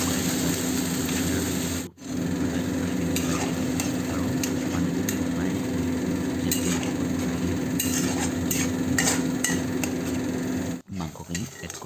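Methi malai chicken paste being stirred in a wok, a low steady cooking hiss with intermittent scraping and clinks of a utensil against the pan, close by, with a steady background hum and brief dropouts.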